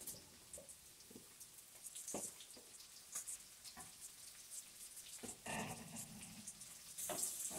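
Calabresa sausage added to bacon in a pan, giving faint crackling sizzle with scattered pops and spits, quiet and uneven, with no talk over it.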